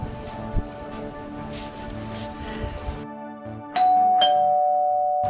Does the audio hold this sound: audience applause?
no